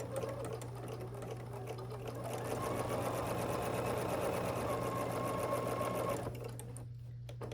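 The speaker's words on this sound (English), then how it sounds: "Then I'm going to start sewing." A sewing machine stitches a scrappy sawtooth star quilt block in a continuous, steady mechanical whir with a constant hum, close by and moderately quiet, stopping near the end.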